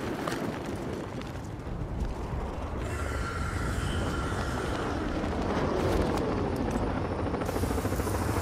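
An enemy drone flies in the Batman: Arkham Knight video game, giving off a loud, steady whirring rotor drone that holds for the whole stretch, with faint mechanical rattles underneath and no talking.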